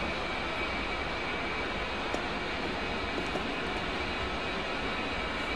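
A jet engine spools up in the DCS World combat flight simulator, heard as a continuous, even broadband roar with a thin steady whine running through it, alone and unbroken.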